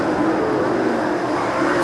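Late model race cars roar down the front stretch at a dirt track raceway, a loud, steady engine drone that holds without a break through the short moment.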